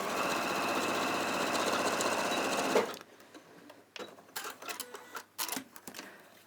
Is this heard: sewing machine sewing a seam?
yes